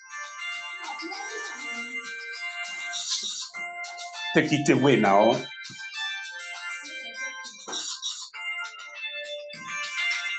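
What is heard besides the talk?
phone ringing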